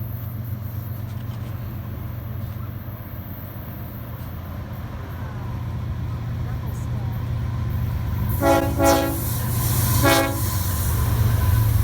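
A long BNSF freight train rolls past Carkeek Park in Seattle at dusk with a steady low rumble, then sounds two short horn blasts near the end.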